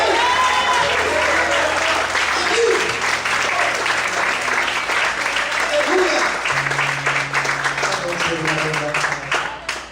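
Loud, sustained applause from a large church congregation, dense clapping throughout with voices calling out beneath it and a low tone humming in the background.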